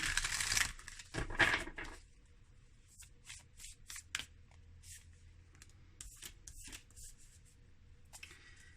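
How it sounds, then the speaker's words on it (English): Tarot cards are shuffled in quick riffling bursts, loud at first, then a series of shorter, softer flicks and snaps close to the microphone. "Okay, I'm supposed to shuffle this way."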